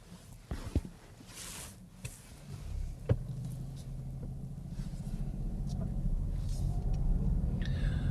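A car's engine rumbles low and rises steadily while driving in second gear, starting quiet with a few knocks and clunks, then building into a strained continuous drone.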